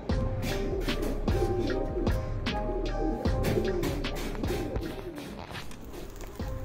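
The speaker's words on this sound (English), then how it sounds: "one of the best quality black color of German Beauty Humor Pigeon" Black German Beauty Homer pigeons, a hardy domesticated flying breed, coo repeatedly at close range with soft rhythmic low calls, over a steady background rumble and occasional light rustling.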